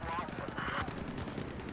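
Desert Eagle pistol shots in a first-person shooter game come as quick repeated bursts, faint and mixed beneath people talking.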